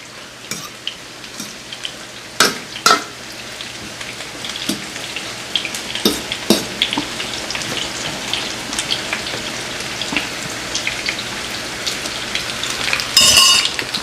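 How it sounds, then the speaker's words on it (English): A mushroom veggie burger mixture cooking in a pan, with a continuous soft frying hiss broken by irregular clacks and scrapes from stirring, including a louder burst of clatter near the end. "I'm gonna give this a stir."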